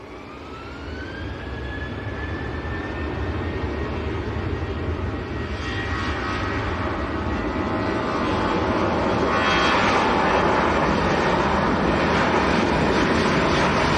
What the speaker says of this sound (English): Is Ryanair to Dublin, rolling away.